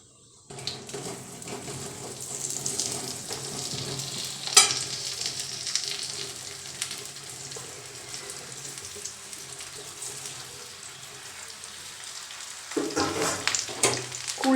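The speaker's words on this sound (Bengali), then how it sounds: "কুলটা দিয়ে খুব ভালোভাবে আমি তেলটা মিশিয়ে নেব।" Jujubes (kul) stirred into hot oil on a low flame for a Bengali kul pickle, giving a steady close sizzle and frying hiss throughout, with a stronger burst near the end as the fruit is mixed through.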